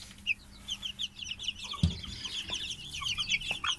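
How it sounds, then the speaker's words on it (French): Pekin chicks keep up a steady chorus of high, rapid peeping, close and busy, with a soft thump partway through and no talking. "Voilà, des très beaux poussins."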